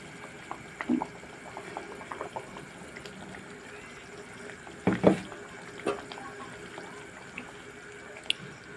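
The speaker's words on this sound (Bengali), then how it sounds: "এখানে তরকারির ঝোলটা কিন্তু ফুটে উঠেছে" Curry gravy for spiced eggplant bubbles in a pan, with soft, scattered pops and gurgles over a quiet background and a louder burst of bubbling partway through.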